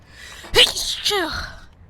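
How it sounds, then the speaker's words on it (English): A single loud sneeze bursts out, a sharp intake followed by an explosive release, then a brief trailing exhale. "I also feel a sneeze coming on."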